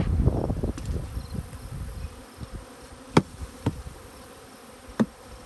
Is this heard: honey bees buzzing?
yes